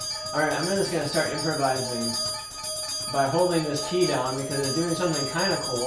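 A synthesizer patch called glass bell pin drops rings out with a sustained, shimmering bell tone as one key is held down, while someone talks over it the whole time.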